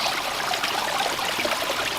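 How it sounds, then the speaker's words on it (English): Water spills steadily over the main spillway of a rebuilt garden waterfall into a gravel-lined pond, a continuous close splashing rush with no voices. "Here's the main spillway where the water is spilling into the pond."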